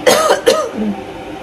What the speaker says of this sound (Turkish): Ay öksürük tuttu.